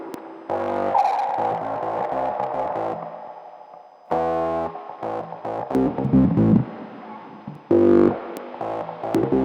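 Synth tune played through an Audio Merge CF67B filter and reverb, loud distorted chords and stabs with pauses and echoing tails, dense and alone without talk.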